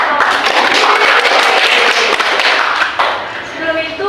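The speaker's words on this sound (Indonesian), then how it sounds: "Tepuk tangan untuk semua." Students in a high school Indonesian class clap together, loud and close, a dense rattle of hands with a few thumps, fading out near the end as voices rise.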